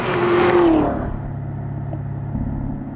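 A Chevrolet Camaro, sixth generation, downshifts and accelerates. A brief rising engine rev is followed by a low, steady rumble that settles down.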